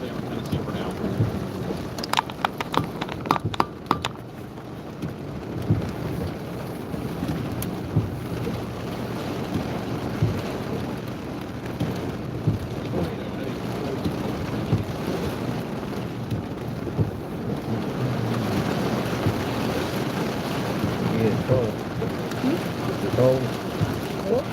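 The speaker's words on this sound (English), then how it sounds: "It's almost like just sheets of rain coming down because of the wind blowing it." Heavy wind-driven rain sweeps down in sheets during a severe storm, a dense continuous roar with gusty wind buffeting the microphone and a few sharp knocks early on.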